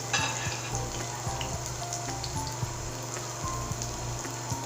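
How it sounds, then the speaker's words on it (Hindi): Garlic frying in fully heated oil, with a steady dense sizzle and scattered faint pops and crackles throughout, moderately quiet, with no voices. "ये मैंने ऑयल रखा है, फुल गरम कर लिया मैंने इसे। और इसमें हम डाल देंगे अपना लहसुन।"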